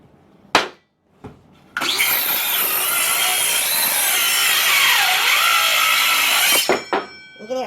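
A Hitachi C18DGL 18V lithium-ion cordless circular saw with a worn blade cuts through wood and strains as it bogs down. The cut runs loud and steady for about five seconds, with the pitch sagging partway through, and clicks come before and after it.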